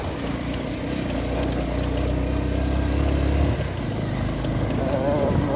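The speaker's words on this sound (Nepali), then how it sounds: "उडाइदिएको है क्या बाइक यार यसरी" A motorbike engine hums and revs steadily nearby on a village road during a wedding outing, the drone holding for several seconds before easing off, with voices faintly around.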